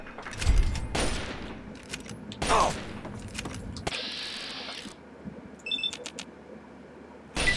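Gunfire in Fallout 3, a series of sharp shots at irregular intervals mixed with mechanical clicks and a brief whirring hum, loud and close with no talking.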